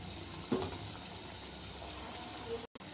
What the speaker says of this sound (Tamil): இப்போ இதை சின்ன சின்ன உருண்டையாக எடுத்து எண்ணெயை சூடு பண்ணி அதில் எப்படி போண்டா மாதிரி போட்டுக்குவோம்.